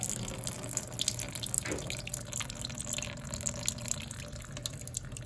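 Milky water drains out of a hurricane-flooded Honda 450 Foreman ATV engine as it is tipped onto its clutch side, a continuous close splashing trickle with small drips.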